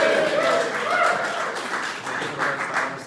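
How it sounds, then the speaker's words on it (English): A crowd cheers and claps steadily at the Meath Intermediate and Senior Football Championship knockout draw, dense applause and shouts sustained throughout at a moderately loud level. "It's a big cheer from everybody."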